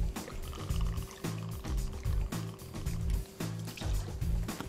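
Beefeater gin poured into a mixing vessel for a Vesper martini, a steady liquid stream with a low rhythmic gurgling pulse running throughout, close and moderately loud with no talking.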